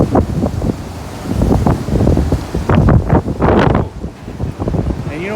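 Strong wind gusting during a night storm in Austin, roaring and buffeting against the microphone in uneven surges, loud and close.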